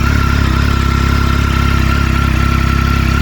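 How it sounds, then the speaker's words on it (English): A 2002 Triumph Speed Triple 955i motorcycle engine idles loud and close, a warm, steady low pulsing throb with an even firing rhythm and no talk. "Here's how the motor sounds."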